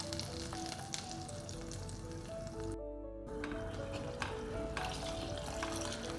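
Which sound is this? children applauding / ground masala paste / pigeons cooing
ground masala paste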